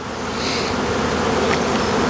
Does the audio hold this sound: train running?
no